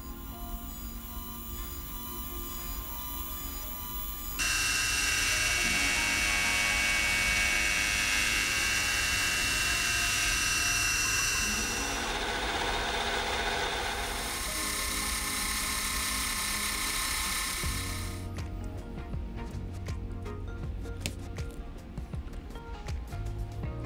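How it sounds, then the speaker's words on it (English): A home shop machine cuts teeth into a small gear wheel for a fine mechanism with a shop-made cutter. It gives a continuous high, drill-like whine whose tone and loudness shift in stages as the cut progresses. "the wheel cutting proceeds as you'd expect"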